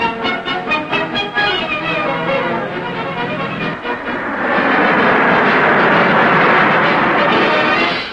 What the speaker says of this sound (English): HMAS Melbourne's 2 squadrons prepare to fly off to their shore base at Nara, south of Sydney. And away they go